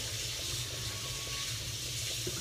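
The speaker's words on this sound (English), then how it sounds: "Let me wash my hands again." Tap water runs steadily over hands being washed at a kitchen sink between seasoning steaks, a continuous close hiss and splash with no pauses.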